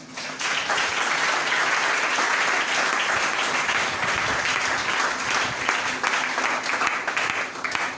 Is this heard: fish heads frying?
no